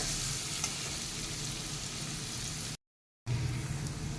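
Finely chopped onion sautéing in a pan for a simple Maharashtrian vegetable dish, with a steady close sizzle and faint stirring. The sound cuts to silence briefly near the end, then the sizzle returns.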